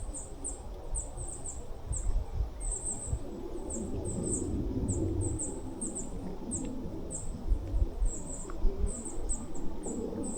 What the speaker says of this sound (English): You can just hear the birds in the background if I shut up for a second.